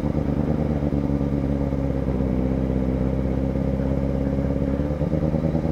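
A Kawasaki ZX-4RR motorcycle climbs a mountain road in Mindoro, its engine a steady, loud, close drone that holds throughout.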